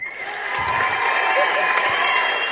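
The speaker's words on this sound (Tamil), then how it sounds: "முதல்ல எல்லாரும் ஜோரா ஒரு சமுத்திரகனி கைதட்டிருங்க" An audio launch crowd applauds and cheers for Samuthirakani at the Nimirndhu Nil event. The steady, dense clapping swells slightly and holds for a couple of seconds, with scattered whoops mixed in.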